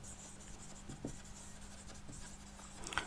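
Pen or marker scratches and taps on a board in short, faint strokes during a biology lecture, with quiet room noise and no speech.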